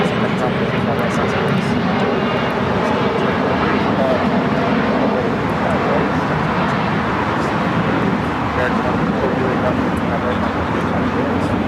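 An airliner touching down on the runway at LAX gives a loud, steady broadband roar that fills the whole stretch without letup, with voices talking underneath.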